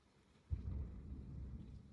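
A deep, low rumble of distant thunder swells suddenly and rolls on steadily, heard alone without talk at a farmhouse overlooking Taal.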